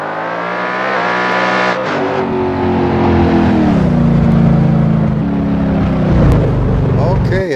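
A race car engine in a racing video game revs hard and steadily, its rising and falling pitch loud and close throughout, with a shift-like dip near the start and flames popping from the exhaust.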